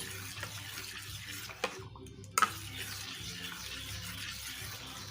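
Salted semolina batter is stirred in a bowl, giving soft, wet churning under a low hum, broken by a brief pause and two quick clinks near the middle.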